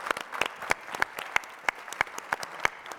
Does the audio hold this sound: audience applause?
yes